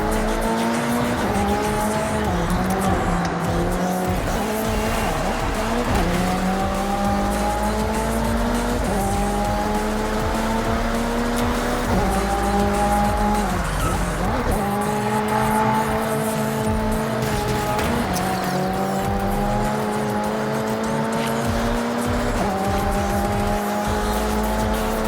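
Race cars in Forza Horizon 6 tearing through Tokyo streets, engines climbing and shifting through gears repeatedly while tires squeal and skid through corners, loud and continuous for the whole stretch.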